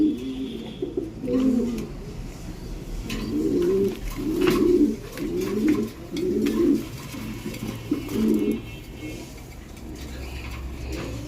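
Khaki pigeons coo in a steady, repeated throaty rhythm at close range, several pulsing phrases in a row with faint background rustle and no talk.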